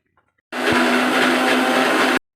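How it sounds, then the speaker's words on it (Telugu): A kitchen mixer grinder grinds ginger garlic paste for a chicken capsicum fry, running as one steady, loud whirring burst of nearly two seconds that starts and stops abruptly, with no talking. "ఇప్పుడైతే ఇవన్నీ మిక్సీ కొట్టేస్తాను"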